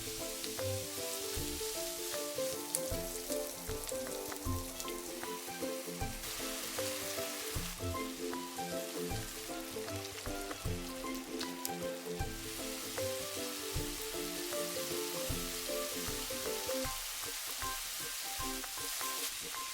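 Green onion, ginger and garlic frying in a pan for mapo tofu, a continuous crackling sizzle with occasional spatters and stirring knocks, steady and close for the whole stretch, no voices.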